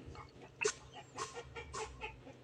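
A sick chicken gives snoring-like, rattly breaths and short clucks, several soft bursts close to the microphone with no talking.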